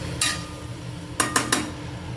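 A lid goes onto a cooking pot left to simmer on low heat, with one metallic clank followed by three quick clattering knocks, close by.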